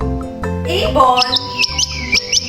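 A bird chirps in quick, high, repeated tweets that start partway through, over a low, steady musical bed.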